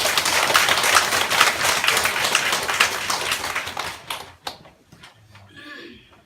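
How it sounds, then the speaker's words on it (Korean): A church congregation applauds during a Sunday sermon, with dense, steady clapping for about four seconds that then thins into a few scattered claps and fades into quiet room noise. "박수 한번 보내주시면 고맙겠습니다."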